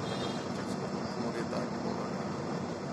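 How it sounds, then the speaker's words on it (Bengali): Saraighat Express train at Guwahati station starting to pull away, a steady broadband rumble of rolling wagons with station crowd noise mixed in, continuous and fairly loud throughout. "ট্রেনটা ছাড়লো, একটু একটু করে এগোচ্ছে"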